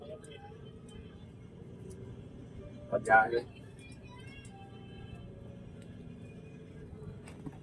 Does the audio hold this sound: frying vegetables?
no